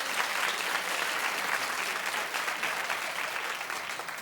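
A talk-show studio audience claps steadily and loudly, a continuous wash of applause with no voices over it.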